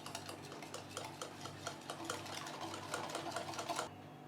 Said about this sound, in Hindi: फिर हम इसमें एक अंडा मिला देंगे। अच्छी तरह से विस्क कर लेंगे।